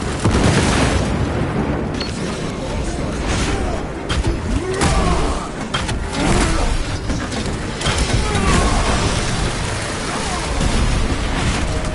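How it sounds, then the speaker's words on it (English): A frag grenade goes off in Warhammer 40k Space Marine 2 amid a constant roar of combat, with heavy, booming low rumble and scattered crashing bursts over twelve seconds; voices are faintly present in the mix. "Frag grenade out!"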